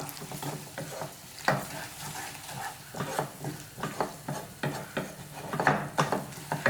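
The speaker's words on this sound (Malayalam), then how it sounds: "ഈ ഒരു സ്റ്റേജിൽ ഇനി നമുക്ക് ഇതെല്ലാം കൂടി നന്നായിട്ടൊന്ന് സ്ക്രാമ്പിൾ ചെയ്തെടുക്കാം" Green peas and egg are scrambled in a pan for a street-style stir fry, with repeated spatula scrapes and stirring taps over a soft sizzle, close and moderately quiet, no talking.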